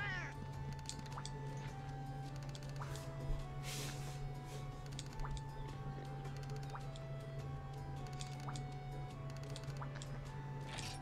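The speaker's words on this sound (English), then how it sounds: "I think another cat must have shown up since I beat the Great Jaggy." Repeated cat meows in the Monster Hunter Tri video game, a series of short tonal calls over a steady background music hum and faint ticking, no talking.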